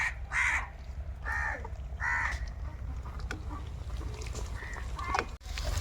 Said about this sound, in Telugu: ఎన్ని కాకిలో చూడండి